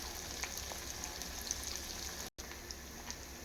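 Small fish fry in a pan with a soft, continuous crackling sizzle and scattered light pops, fairly quiet and steady, broken by a brief dropout near the end; nobody speaks.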